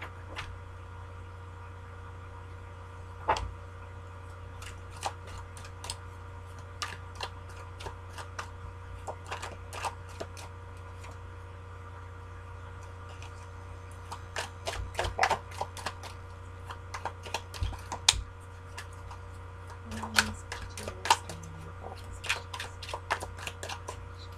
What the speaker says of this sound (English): you guys are seeing me shuffle these cards